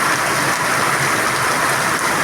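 Heavy rain after a spell of intense heat pours down in a dense, steady hiss that fills the whole short stretch evenly, with no voices or other sounds breaking through.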